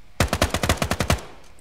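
A rapid burst of about nine loud, evenly spaced gunshots from an automatic weapon in the video game Ground Branch, close and punchy, then a quiet pause.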